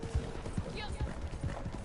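Horse hooves in the video game Red Dead Online clop in a steady four-beat rhythm, moderately close and fairly soft, under faint background ambience.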